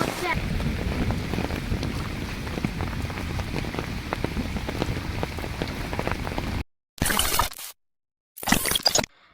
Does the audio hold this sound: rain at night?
yes